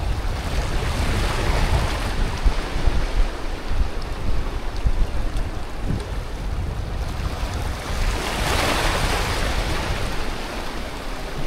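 Rough sea with strong waves and wind off Sabang during a fishing trip. A loud, continuous roar of surf and gusting wind fills the whole stretch, with no voices.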